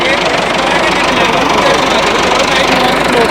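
A 4WD 385 tractor with GPS auto-steering runs close by at a steady, loud engine drone with a rough knocking texture. People talk over the noise.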